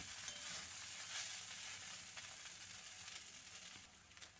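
Flattened rice pulao fries in a pan with a soft, continuous sizzle, faint and steady, with a few light scraping stirs and no voices.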